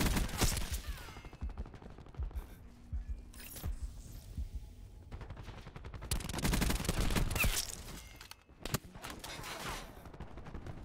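Shotgun blasts in a video game firefight, loud bursts of gunfire recurring through the stretch with mechanical clatter between shots and a brief lull midway.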